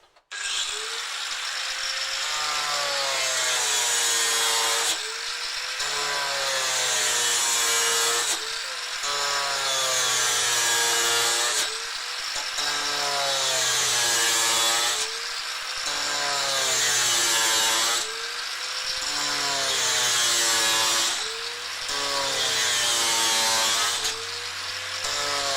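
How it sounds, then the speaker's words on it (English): An angle grinder cuts during an aquaponics solid lift outlet build, running loud and close in long sustained bursts with short pauses between passes and a whining pitch that wavers as the disc bites. "So just be careful with angle grinders."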